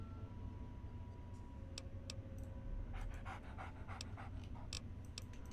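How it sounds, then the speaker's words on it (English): A dog pants steadily in the video game Fallout, a faint, quick rhythmic breathing over low background hum, with a few light ticking clicks scattered through. "it's now Dogmeat's son, essentially, or child, we just call it Pup"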